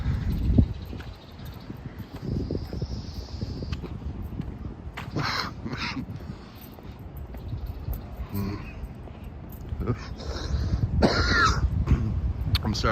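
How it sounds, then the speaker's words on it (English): Several short coughs and throat-clearing bursts, close by, scattered over outdoor background noise on a walk around docks, with faint rustling. "I'm sorry about the annoying cough, guys."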